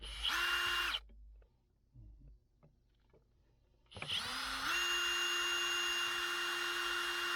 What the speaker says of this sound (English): And get your hole started.